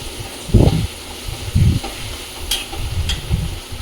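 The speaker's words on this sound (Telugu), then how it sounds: "అది వెల్లుల్లి పేస్ట్ పచ్చిగా ఉంటుంది కాబట్టి చాలా బాగా ఫ్రై చేసుకోవాలి" Raw garlic paste frying in oil for mango pulihora, with a few brief scraping stirs and soft spatula knocks over a low sizzle, no talk.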